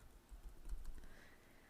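Computer keyboard typing a short phrase, a brief run of quiet, soft key clicks close by with no voices.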